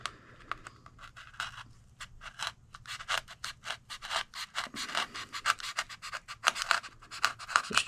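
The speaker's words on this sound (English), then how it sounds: "I'm actually going to cut this little piece out right here," A small piece is cut out of an FMS 1220mm Ranger RC plane after a crash, making rapid scratchy snips and rasping cuts that come in an uneven, quickening rhythm, close and fairly quiet with no talk.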